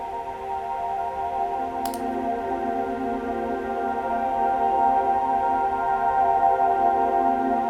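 A worship-style synth pad run through a free Valhalla reverb with the highs cut and feedback and warp raised, a steady sustained wash of tones holding evenly with no talk.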